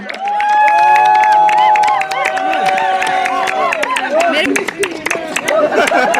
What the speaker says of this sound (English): Everyone, please give a great round of applause for Shriti Kartwal, ma'am